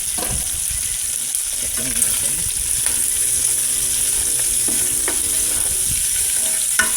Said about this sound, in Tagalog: panggisa na bawang at sibuyas